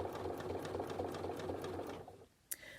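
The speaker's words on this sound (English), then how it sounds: "So the needle is going up and down quite fast, but I'm not moving the fabric very fast." A sewing machine stitches appliqué fabric with the needle running fast in a steady, even whir, stopping near the end, followed by a short click.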